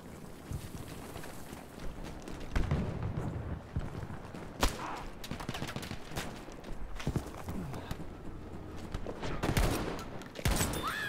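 Sniper rifle shots from Battlefield 2042 crack out sharply several times at irregular intervals over wind noise and battlefield rumble on a winter map, some close and loud, others more distant.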